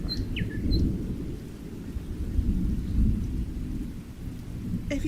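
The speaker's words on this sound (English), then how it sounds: "ASMR stream with storm sounds" A thunderstorm with rain as ASMR storm ambience: steady heavy rain hiss with low rumbling thunder rolling underneath, continuous and close, with faint bird chirps.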